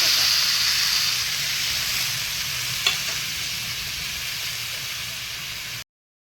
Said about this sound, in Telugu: ఇప్పుడు ఇందులోనే మనము కట్ చేసి పెట్టుకున్న టమాటో వేసుకోవాలి.